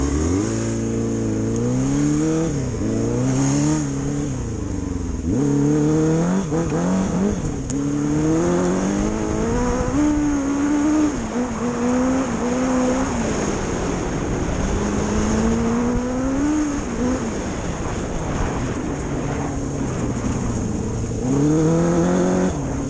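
Homemade four-cylinder rat-bike dirt bike engine on a test ride, revving up and down continuously with loud close rising and falling pitch sweeps throughout, no talking.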